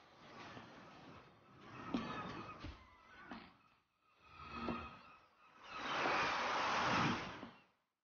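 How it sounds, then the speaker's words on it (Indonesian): Faint ocean waves break on a white-sand beach at Perak Island, surging and receding in several soft, rushing swells with quiet gaps between them. "nikmatin deburan ombak, suara-suara ombak itu rasanya aduh nyaman banget"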